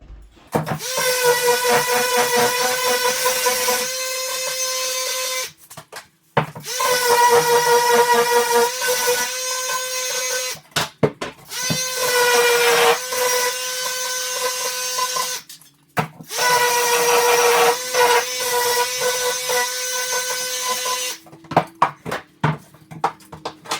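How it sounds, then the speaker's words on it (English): A power sander works the raw cut edges of wooden window trim, running in four long, steady whining bursts separated by short pauses, close and loud with no talking. "So I want to sand it up, smooth it up, break the corner"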